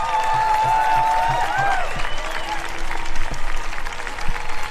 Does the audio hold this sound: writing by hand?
no